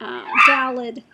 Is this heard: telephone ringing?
no